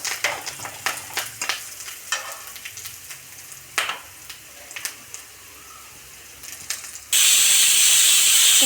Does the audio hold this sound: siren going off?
no